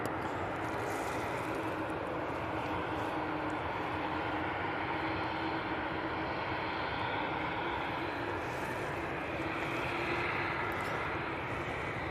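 A Ryanair airliner bound for Seville on its takeoff roll at Manchester Airport gives off a broad, steady roar of distant jet noise that holds at an even, fairly faint level throughout.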